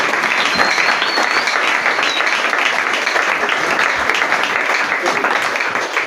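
A church congregation at a praise and worship service breaks into loud, sustained applause and cheering for God, a dense continuous roar of clapping and voices that holds steady from start to finish.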